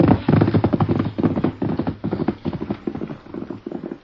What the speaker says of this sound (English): Does look like the Lone Ranger's horse